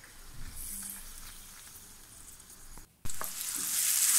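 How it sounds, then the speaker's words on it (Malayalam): Sliced onions fry in coconut oil left over from frying pappadam, giving a close, hissing sizzle that cuts out briefly, then returns louder and brighter. "പിന്നെ അതിലേക്ക് ഞാൻ ഇന്ന് സവാള ഇട്ടെടുത്തത്."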